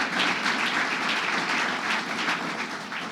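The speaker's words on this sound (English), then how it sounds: "Let's give her a round of applause." An audience at a governor's grant award event gives a round of applause, a steady wash of many hands clapping at moderate loudness, without talk.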